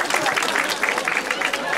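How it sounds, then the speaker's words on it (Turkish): A village youth talent-show audience at a theatre applauds a contestant, a brief burst of steady crowd clapping heard close and fairly loud. "büyük bir alkış Selman için"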